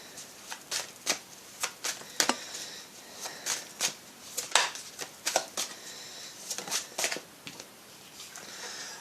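An Oracle de Lumière card deck being handled and shuffled, a series of quick crisp riffles and taps in irregular bursts, close and fairly quiet, with no talking.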